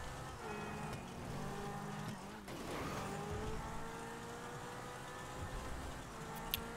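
A Porsche driving in GTA V Online, its engine tone rising and falling steadily with shifting pitch as it accelerates, a brief rushing pass midway, loud and continuous with no talk.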